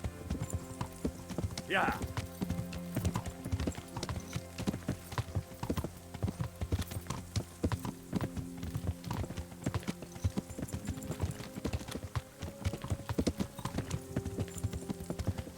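Horse hooves clip-clop steadily in the video game Kingdom Come: Deliverance, a continuous rhythmic trot heard throughout, with a brief whinny and someone speaking quietly over it.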